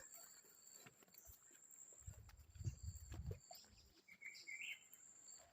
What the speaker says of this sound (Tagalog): Maririnig mo dito puro huni ng ibon.